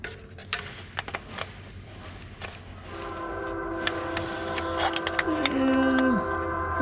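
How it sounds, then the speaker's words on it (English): A train passes near a worksite with a Deere 450G dozer, starting with rattling clanks and a rising rumble, then a long sustained horn blast that grows louder toward the end. "And there's a train."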